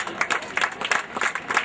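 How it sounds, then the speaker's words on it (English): Audience applause at a school sports and drill display, a steady patter of many hands clapping at a moderate distance with no talk over it. "I invite and I request you to specially clap for all the physical education teachers of our school, Mr. Pradeep Chodangar,"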